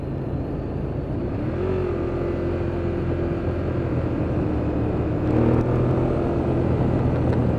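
A Ducati Monster 1200 motorcycle accelerating in sport mode, a steady engine drone with a rising pitch sweep, loud and near against constant wind rush, no talk.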